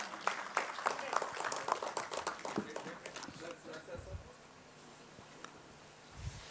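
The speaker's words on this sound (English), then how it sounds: "Please give them a huge round of applause." Applause for prize winners at a national textile heritage symposium, a spread of individual claps ringing through a hall for several seconds, thinning and fading toward the end.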